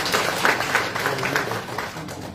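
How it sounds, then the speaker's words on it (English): Audience clapping for PhD Paradise Secondary, a top-ranked school at a Papua New Guinea education ministry results announcement, as a steady crowd applause of scattered hand claps throughout. "Let's give a big clap, uh, clap to PhD Paradise Secondary."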